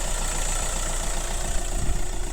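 A 2019 Hyundai Creta 1.6 diesel engine idles steadily close up, a smooth continuous low rumble with a faint high whine and no talking.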